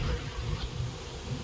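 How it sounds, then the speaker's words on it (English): A honeybee swarm hums steadily inside a box, the bees fanning as the cluster settles; a continuous low buzzing drone, moderately close and unbroken, with no talking. "So there you can see the bees fanning"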